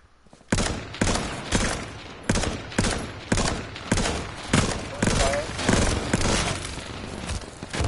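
Bursts of automatic gunfire from a PS4 shooter game, about a dozen loud, evenly spaced volleys repeating roughly every half second to second, with faint game effects between them.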